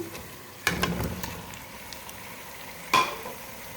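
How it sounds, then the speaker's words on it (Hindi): Onions, ginger garlic paste and green chilies frying over a medium flame, a low sizzle with two louder bursts of stirring and scraping in the pan. "प्याज, जिंजर गार्लिक पेस्ट और हरी मिर्चों को हम मीडियम फ्लेम पर फ्राई कर रहे हैं।"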